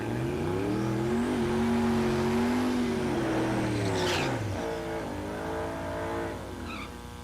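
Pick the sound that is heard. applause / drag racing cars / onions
drag racing cars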